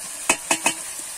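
Ground chili, turmeric, coriander and cumin, half a spoon each, fry together in a pan for cabbage kofta curry; three quick, sharp spoon clinks and scrapes rise over a faint, low sizzle.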